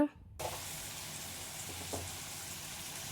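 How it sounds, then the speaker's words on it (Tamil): Finely chopped tomatoes sauté in hot oil for a bitter gourd thokku, a steady hiss after a sudden start, with a couple of faint stirring touches, close and without talk. "குட்டி குட்டியாக கட் பண்ணி வச்சுருக்க தக்காளி தக்காளி சேர்த்து நல்லா வதக்கி விட்டுருங்க"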